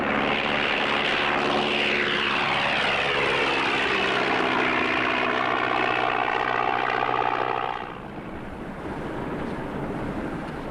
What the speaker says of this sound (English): The plane takes off to fetch another load of stores.